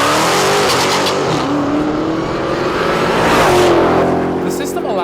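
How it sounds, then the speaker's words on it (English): A Dodge Demon's supercharged powertrain roars through a full launch with its torque reserve launch system, a loud, sustained engine howl rising in pitch with a possible tire squeal, under a narrator's voice. "This latest video lets us hear the Demon's powertrain during a full launch, revealing the new torque reserve launch system."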